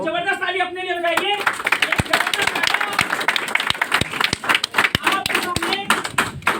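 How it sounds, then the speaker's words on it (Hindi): An audience clapping together at a corporate event, sharp claps over steady applause for several seconds, following a brief burst of speech at the start. "अगर देखना चाहते हैं जबरदस्त ताली अपने लिए बजाइए"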